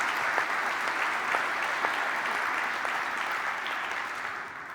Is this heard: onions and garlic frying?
no